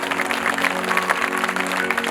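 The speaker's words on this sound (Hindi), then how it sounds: "सभी लोग अपने लिए ताली बजाइए कि पहले ही दिन इतनी संख्या में आप लोग पधारे।" Audience clapping at a religious discourse gathering, a steady dense patter of many hands with a low hum underneath.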